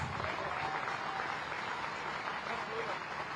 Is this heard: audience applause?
yes